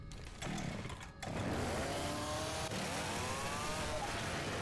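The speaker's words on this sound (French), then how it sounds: "J'ai une tronçonneuse, mec." A chainsaw in the zombie shooter Left 4 Dead 2 idles and revs steadily after a short start, a loud continuous buzzing drone that holds for several seconds without talk.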